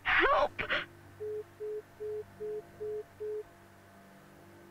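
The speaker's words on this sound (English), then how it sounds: "So, sounds like we got a phone call from the daughter" Telephone ringing in the video game SKYHILL: Black Mist, a short burst of sound at the start followed by six evenly spaced, clean electronic beeps, quiet and regular, then silence.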